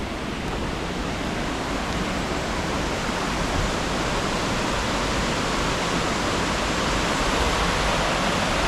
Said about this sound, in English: So that's the river.